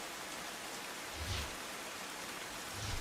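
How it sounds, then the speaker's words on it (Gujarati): Light drizzle falls over the SG Highway in the Gota area of Ahmedabad, making a soft, even, continuous hiss, quiet and close, with no voices. "અમદાવાદના એસજી હાઈવે ગોતા વિસ્તારના આ દ્રશ્યો છે કે ઝરમર વરસાદ જે છે તે"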